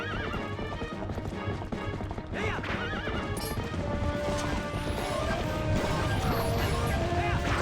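Rapid hoofbeats clatter steadily while a horse whinnies several times during horseback fighting in a Zelda Twilight Princess game, mixed with crashes and busy game music; no talking.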